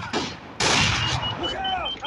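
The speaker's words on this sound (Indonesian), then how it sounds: "Rupanya di sini ada yang guna sniper guys." Two heavy booming shots from a sniper rifle in the video game Blazing Sniper ring out close together, the second longer and louder, while a voice talks briefly over the game audio.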